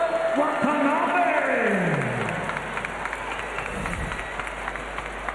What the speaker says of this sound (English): A mixed reaction, obviously, from the crowd.